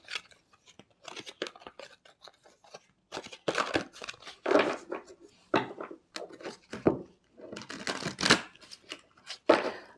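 Tarot cards are shuffled and drawn in a close, quiet room, with bursts of papery riffling and sliding alternating with soft taps and brief pauses, irregular in rhythm.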